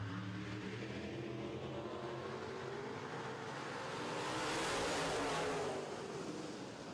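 Modified race cars roar steadily around a short oval track during a heat race, a continuous blended engine drone that swells as cars pass close by, then eases off.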